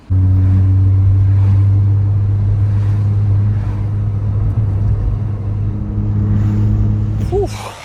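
Porsche 996 GT2 engine, around 500 horsepower, running on a dynamometer with a loud steady low drone that eases slightly near the end.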